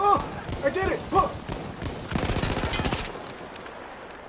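Automatic gunfire from a World War I-era weapon in the Battlefield 1 video game, a burst of rapid shots near the middle of the clip, with excited talk and exclamations before it and a quieter tail after.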